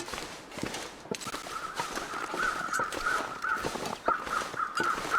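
Several crows caw repeatedly in the distance in the video game The Long Dark, over a steady background of footsteps and ambient noise, with no talking.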